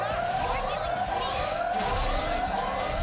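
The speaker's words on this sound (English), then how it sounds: "That's the first time I heard a siren in the animation." Wailing siren in a Xenoblade Chronicles 3 cutscene, a steady rising and falling tone running throughout over a busy, dense soundtrack.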